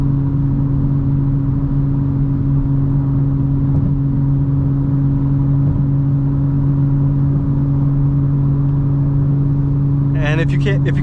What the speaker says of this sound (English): I'll put the windows down, get some exhaust notes.